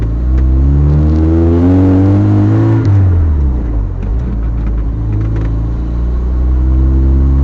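Car engine that has been skipping and misfiring while driving slowly around a neighborhood, a loud close rumbling drone that rises in pitch, then drops and stumbles unevenly, with no talk.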